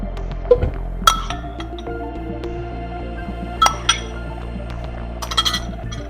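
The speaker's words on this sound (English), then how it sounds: "we're going to put my favorite pineapple" Fresh pineapple chunks dropped into a glass blender jar, several sharp clinks and knocks spaced irregularly, with a quick cluster near the end over a quiet background.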